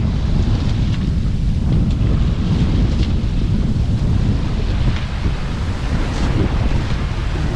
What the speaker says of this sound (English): We're hitting a lobster boat wake.